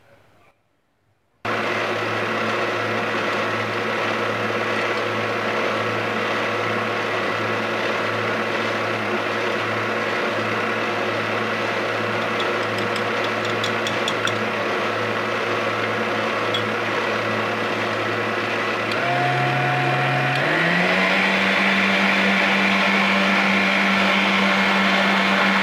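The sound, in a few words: electric mixer beating eggs, oil and lemon for cake batter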